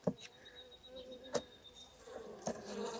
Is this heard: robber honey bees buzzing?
yes